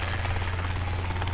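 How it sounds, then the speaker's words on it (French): A helicopter passing overhead, a loud, close, steady rotor thrum with dense low throbbing that fills the whole brief moment, no voices. "l'hélicoptère est en train de repasser"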